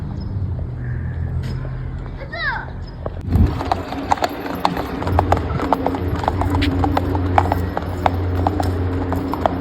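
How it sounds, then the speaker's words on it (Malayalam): Horses ridden by boys clop along in a quick, uneven patter of hooves on hard ground, growing close and clear after a short pause, with voices talking briefly near the start. "നേരത്തെ കണ്ട അതേ പയ്യന്മാരാണ്, കുതിര ഓട്ടിച്ച് വരുക."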